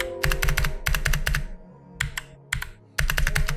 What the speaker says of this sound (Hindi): ये देखो मेरी कीबोर्ड वॉइस आपको आती हुई दिख रही होगी